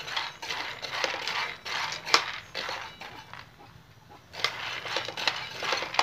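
A metal spoon scrapes and clinks against a pan as raw peanuts are stirred and roasted for fishing bait, with a steady rattling of nuts shifting, fairly close and fairly quiet, with a short lull midway.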